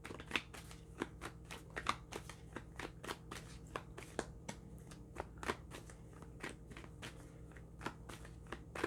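Tarot cards are shuffled in a quick, uneven run of crisp riffles and flicks, close and fairly quiet, with no voices.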